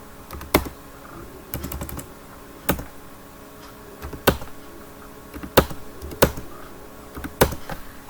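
A computer keyboard is used to type a spreadsheet formula, producing sparse, sharp, close keystroke clicks spaced irregularly, some in quick pairs, over a quiet room.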